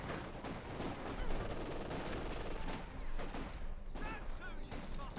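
Battle sounds from Company of Heroes 2, a dense, continuous crackle of machine gun fire and scattered gunshots filling the scene, with voices and in-game chatter mixed in underneath.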